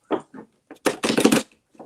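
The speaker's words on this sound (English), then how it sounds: "I'm just shuffling cards." Playing cards being shuffled: a few soft flicks, then a dense burst of riffling clatter lasting about half a second, close by, with no talking.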